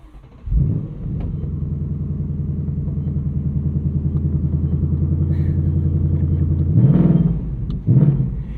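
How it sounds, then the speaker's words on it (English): A 2024 Ford Mustang Dark Horse V8 in track exhaust mode cranks and fires, then settles into a loud, steady, low, lumpy idle before two short throttle blips near the end. "we still have that really low, rumbly, grumbly, loby V8 noise"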